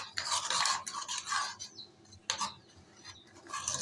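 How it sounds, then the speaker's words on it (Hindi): A spoon scrapes and stirs a sugary kunafa mixture in a bowl, giving close, brisk rhythmic scraping bursts broken by short pauses. "अच्छे से आपने इसको मिक्स करना है।"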